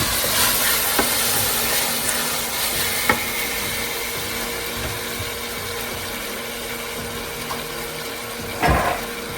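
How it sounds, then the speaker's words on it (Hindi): Spice masala roasting in a pan gives a steady close hiss and sizzle, broken by a few sharp clicks of a spoon against the pan. "अच्छे से हम लोग मसाला भून लेंगे"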